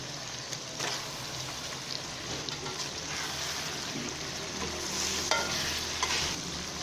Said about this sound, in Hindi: चिकन को अब हम 2 मिनट फ्राई करेंगे